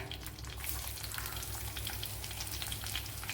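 About ten garlic cloves go into hot oil with dried red chillies, setting off a brisk, even sizzle up close, broken by light stirring scrapes.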